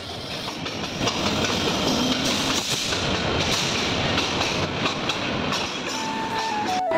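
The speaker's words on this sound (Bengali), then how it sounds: "দেখতে দেখতেই কিন্তু ট্রেনটা এসে আমাদের মাঝে উপস্থাপন হলো।" A train rolls in with a continuous rumble and rhythmic clatter of wheels on rails, fairly loud and close, with a faint squeal near the end.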